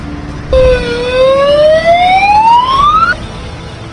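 A loud air raid siren wail in Chandigarh sweeps steadily upward in pitch for a few seconds, then cuts off abruptly, with low rumble beneath.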